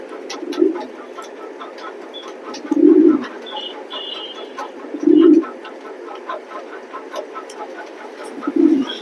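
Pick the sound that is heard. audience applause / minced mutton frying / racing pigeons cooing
racing pigeons cooing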